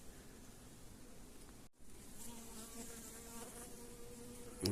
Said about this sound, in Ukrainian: бджоли осі літають